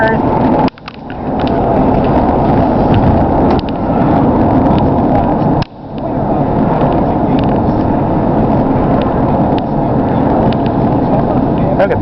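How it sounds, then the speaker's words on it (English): Northbound traffic on Highway 400 near Parry Sound, Ontario, heard from inside a moving vehicle as a loud, steady road and engine roar with a couple of brief dips, and no clear voices. "Look at the traffic."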